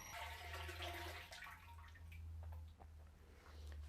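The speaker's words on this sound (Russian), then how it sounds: "воду грязную сольем, наберем опять воды, покрутим мешалочкой" Dirty rinse water drains away from soaking, sprouting malting grain, a continuous gurgling pour with scattered drips over a low steady hum, fairly quiet and with no talking.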